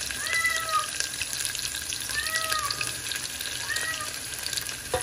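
Chopped onion sizzling in hot oil in a pressure cooker along with bay leaf and garlic, a steady close frying hiss with faint clinks and sweeps of stirring throughout.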